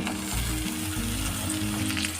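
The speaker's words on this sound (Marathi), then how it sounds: "आता हे सर्व एकत्र करून मिनिटभर फ्राय करून घेऊया" Sliced ivy gourd frying in spiced oil in a kadhai, a steady close sizzle with low stirring scrapes and clatter running through the short stretch, no voices.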